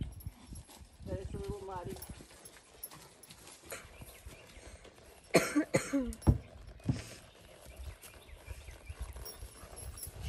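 A horse canters over muddy ground on a homemade obstacle course, with irregular hoof thuds and clops under outdoor talk, plus a cough and a burst of louder close movement midway.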